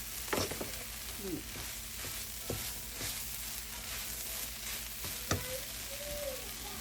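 Faint, steady sizzling of shredded pork dry-frying in a pan for pork floss, with occasional soft pops and scrapes.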